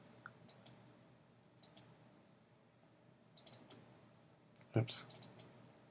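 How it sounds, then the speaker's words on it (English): Mouse clicks on a computer during an Adobe Animate class: faint, sharp double clicks recur in small pairs and clusters, with a louder burst near the end under quiet room noise. "So I'm double clicking right in here."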